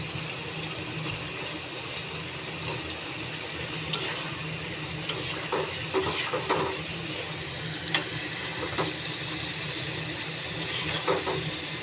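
Tripe stirred and fried in a pan, a steady broadband sizzle with scattered sharp ticks and scraping clicks from the spoon, continuous and fairly close.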